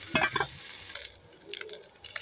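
Puti fish frying in a pan give off a steady, close sizzle, with a few sharp stirring scrapes near the start and soft crackles throughout.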